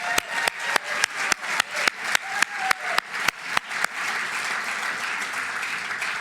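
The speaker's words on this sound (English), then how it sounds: "round of applause for Robin" Applause at a CFO of the Year awards ceremony: sharp, evenly spaced individual claps ring out first, then a broad wash of crowd clapping builds and carries steadily to the end.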